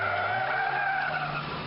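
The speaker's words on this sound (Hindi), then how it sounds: "शहर के अंदर गाड़ी इतनी तेजी से नहीं चलाते।" Car tires skid and squeal loudly as a vehicle drives fast through city streets, a sustained screech with engine roar underneath, close and continuous with no talk.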